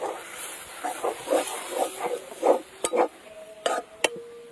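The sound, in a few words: mashed potato being mixed with spices by hand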